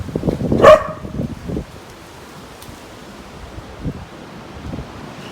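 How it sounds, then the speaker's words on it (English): Wind blows steadily outdoors at a low, even level, with a brief louder burst near the start that may be a dog bark, and a few faint bumps later. "Just want to listen to the wind for a minute."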